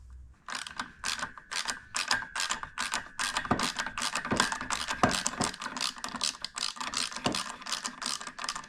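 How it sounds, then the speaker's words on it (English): A clutch nut on a Stella scooter is tightened with a ratchet, giving a close, rapid series of sharp mechanical clicks in uneven bursts. No one speaks. "That way I can tighten this nut"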